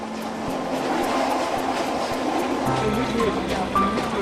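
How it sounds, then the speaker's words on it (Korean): A cheap third-class passenger train with hard wooden-seat carriages rattles along the rails on a long journey toward Hanoi, a steady rumble with rhythmic clacking heard from inside the cramped car, with a voice speaking over it. "서민들이 주로 타는 가장 저렴한 열차죠."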